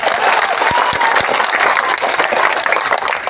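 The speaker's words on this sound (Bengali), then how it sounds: "ওইসব নেতৃবর্গের জন্য জোরে একটা করতালি দেওয়া হবে।" An audience at a political discussion meeting and prayer gathering applauds its leaders, a loud, dense burst of crowd clapping that runs the whole time, with a few sharp individual claps standing out.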